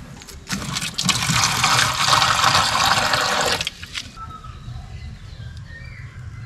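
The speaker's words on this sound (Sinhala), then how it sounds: "ඉතින් ඒ වගේම මේගොල්ලන්ට වතුරත් මේ කප් වලට දාන්න ඕනේ." Water pours into small cups set out for large captive cobras, a steady splashing burst of about three seconds that stops abruptly, followed by quieter background sounds.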